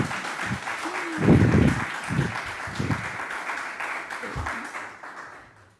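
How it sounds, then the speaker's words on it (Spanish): Applause at a presentation of an Andean patent examination manual, heard as a soft continuous patter of clapping with voices speaking over it before it fades out. "nos merecemos un aplauso"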